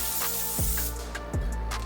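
Short bursts of guide coat sprayed from an aerosol can onto a repaired van panel, two or three quick close hisses in under two seconds.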